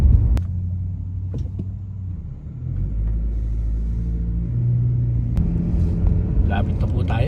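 White car driving along a road toward a hospice office, a low, steady engine and road rumble heard from inside the vehicle, with the hum easing and rising again and a voice speaking over it.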